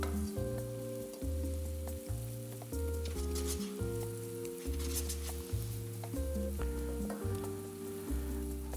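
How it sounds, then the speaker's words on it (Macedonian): A sauce stirred while it fries gently in a pan, a continuous close sizzle under a repeating low tonal hum with no talk over it. "Сето ова ќе го измешам."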